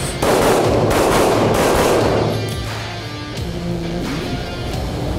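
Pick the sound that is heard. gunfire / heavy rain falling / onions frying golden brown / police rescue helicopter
gunfire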